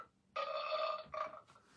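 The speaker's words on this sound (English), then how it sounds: "That's my burp of the week." A person burping, with two close, tonal croaking bursts, the first long and the second shorter, in an otherwise quiet room.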